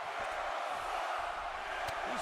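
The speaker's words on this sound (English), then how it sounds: "Crowd back to chanting for Jericho." A WWE 2K18 arena crowd chants for Jericho in a steady, dense roar that fills the arena, with no clear breaks and a voice faintly over it.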